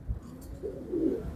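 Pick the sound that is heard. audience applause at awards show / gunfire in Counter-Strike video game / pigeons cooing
pigeons cooing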